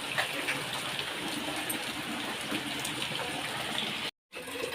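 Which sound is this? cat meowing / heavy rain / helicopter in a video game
heavy rain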